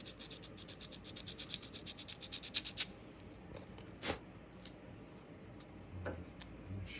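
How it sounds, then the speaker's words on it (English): Light scuffing of a model metal garbage can's surface, done before gluing, comes as a series of soft, quick, close scratchy strokes, clustered at first and then sparser. "and just lightly scuff that area"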